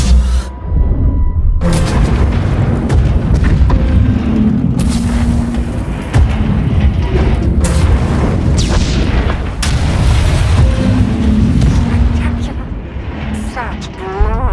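Heavy booming explosions as a failsafe fires in Star Wars: The Old Republic, repeated deep blasts and rumbling over about fourteen seconds, with voices speaking between them.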